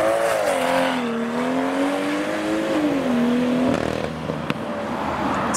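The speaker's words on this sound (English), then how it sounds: "And the loud M140i!" A loud BMW M140i accelerates at a drive-through car show, its engine note climbing and shifting through gears, prominent and close before a quick change as it passes.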